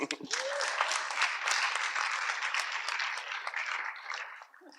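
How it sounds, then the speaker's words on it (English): Conference audience clapping hands after a panel exchange on gas in Vienna, a steady wash of many hands applauding for several seconds before tapering off, with a brief voice at the start. "Clap hands."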